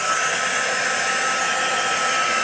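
A hair dryer blows steadily on a scrapbook page, a loud, constant, close-up whoosh lasting the whole stretch with no pauses and no voices.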